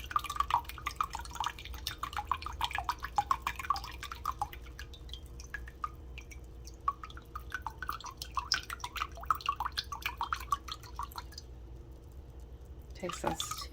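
Rice wine vinegar pours from a 12-ounce bottle into a measuring cup with a patter of drips and small clicks, close and fairly quiet over low room hum, with a sharper clatter near the end.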